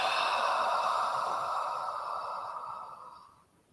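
Slow, long exhale of breath during guided meditation, a soft airy hiss that starts full and gradually fades out over several seconds, close and alone.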